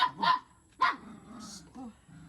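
A dog barks a few times nearby, sharp separate yaps with pauses between them, and a faint whimper near the end.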